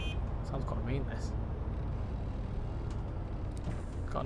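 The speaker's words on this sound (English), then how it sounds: "Got a nice sound to it, this bus." Bus engine in the City Transport Simulator game, rumbling steadily and loudly throughout, with someone talking over it.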